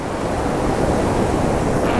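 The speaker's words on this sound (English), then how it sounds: "that's a nice rolling wave right there. Look, it's gonna leave some nice white water." Ocean surf rolling in and breaking at Santa Monica beach, a steady, loud wash of waves and white water with some wind noise on the microphone, no voices.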